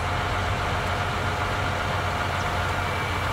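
A tractor engine idling in a farming game, a steady loud low drone with an even rumble throughout and no talking.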